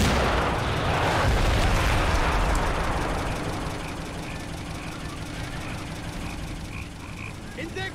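Dense battle noise from gunfire and artillery in the Men of War Assault Squad 2 war game is loud and continuous at first, then eases into scattered sharp reports, with a voice talking over it.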